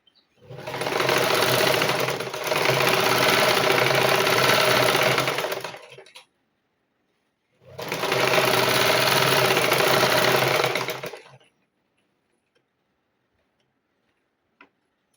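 Sewing machine stitching the pleats of a silk pavada skirt, two loud bursts of fast rhythmic whirring and ticking, each several seconds long, separated by a short pause and ending in silence.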